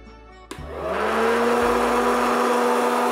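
A popcorn machine switches on with a click and settles into a loud, steady motorised whir and blowing roar as corn kernels tumble inside, running alone without talk.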